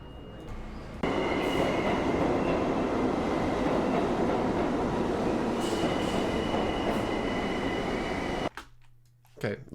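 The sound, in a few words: stereotypical train sound effect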